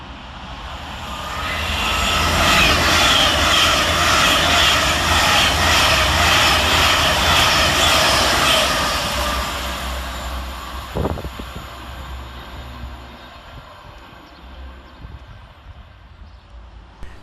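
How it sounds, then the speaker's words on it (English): An Avanti West Coast Class 390 Pendolino train from London Euston to Edinburgh sweeps loudly through Lockerbie station, a sustained roaring rush that builds, holds for several seconds, then fades away with a brief clank. "Next passing through the station 7 minutes late is 390129, working 9 Sierra 44 for Avanti West Coast from London Euston through to Edinburgh"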